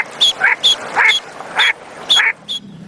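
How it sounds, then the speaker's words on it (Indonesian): A toy duck gives several short, nasal quacks, five or six in an irregular series over a few seconds. The quacks are loud and close, with brief quiet gaps between them. "Muncullah seekor bebek angsa."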